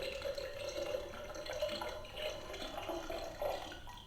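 A water dispenser button on an American Girl doll kitchen toy set plays a recorded running-water sound, a soft, steady trickle with faint drips lasting a few seconds, no voices.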